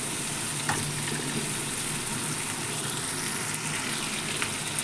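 A spoon stirs sautéed tomatoes in a sizzling pan: a continuous loud frying hiss with a few sharp scraping clicks from the utensil, and no voices.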